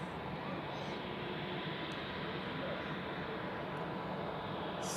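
A Pegasus airliner roars down runway 28 at Zurich Airport on a foggy morning, a steady, loud broadband engine rumble that holds unbroken throughout.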